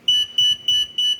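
An 8-channel kitchen timer alarm going off, four sharp, evenly spaced high electronic beeps in quick succession, close and clear against a quiet background.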